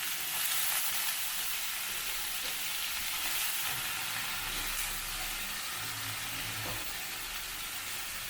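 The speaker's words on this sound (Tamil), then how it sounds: "இந்த வெங்காயம் 2 நிமிஷம் வதங்கினோடனே கத்திரிக்காயை சேர்த்துடலாம்." Onions sauté in oil in a pan for an ennai kathirikai poriyal with brinjal, giving a steady, soft hiss of frying with faint stirring underneath.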